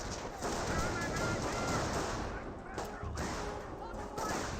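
Suppressive rifle and machine-gun fire crackles through a Company of Heroes battle between Panzer Elite and US forces, a dense, steady rattle of shots mixed with battlefield noise, with a commentator talking over it.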